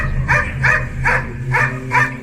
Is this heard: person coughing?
no